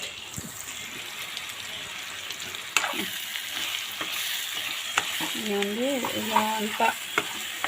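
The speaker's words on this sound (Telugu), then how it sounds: "బాగా కలుపుతూ ఉండాలండి, లేకపోతే అడుగు అంటుకొద్ది" Nalleru pickle is stirred in hot oil in a pan with a continuous close sizzle and soft scraping strokes, while someone speaks briefly toward the end.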